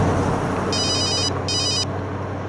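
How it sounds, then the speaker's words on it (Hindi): An old-style telephone bell rings indoors in two loud, steady bursts with a brief gap between them, over a constant low hum. "कंट्रोल रूम से फोन आया है"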